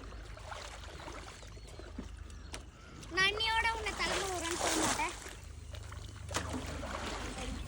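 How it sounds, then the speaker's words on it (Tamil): Cow dung slurry being mixed and poured into a fish tank: a loud burst of splashing and sloshing midway, with voices talking over it and quieter outdoor background before and after. "சாணியெல்லாம் கரைச்சி ஊற்றியாச்சு"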